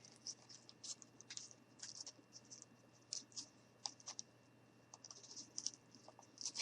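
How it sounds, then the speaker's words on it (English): Scissors cut through aluminum foil in a string of quick, crisp crinkling snips and rustles, close and fairly quiet, coming in irregular bursts with short pauses between. "we're just going to cut that right there"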